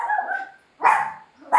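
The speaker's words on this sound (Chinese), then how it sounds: "我们有小狗在。" A puppy barks in three short, high yips spaced about half a second apart, close and loud, with no other sound between them.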